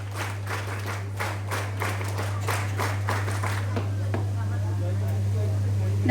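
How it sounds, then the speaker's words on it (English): Cadets applauding at an NCC prize distribution ceremony, a run of rhythmic claps that fades after a few seconds under a steady low hum. "NCC clap शुरू कर"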